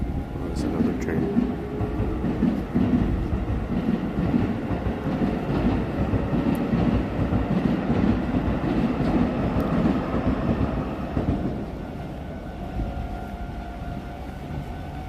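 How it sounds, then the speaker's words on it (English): A train passing by in Japan, a loud steady rumble with rhythmic clatter of wheels on rails that fades after about eleven seconds, leaving a fainter hum. "Oh, there's another train."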